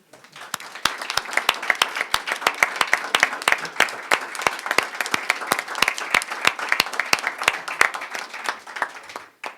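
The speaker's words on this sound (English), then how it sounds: "give this group of students" An audience at a school board meeting gives a round of applause for a group of students, steady clapping from a modest crowd lasting several seconds before fading out.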